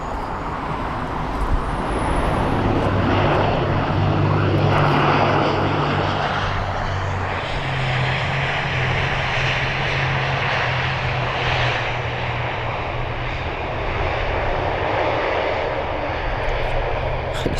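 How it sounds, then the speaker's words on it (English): An ATR 72 turboprop airliner lands at Heathrow, its steady loud engine and propeller roar holding throughout with a broad rushing wash and no voices. "the ATR 72 with a very nice landing"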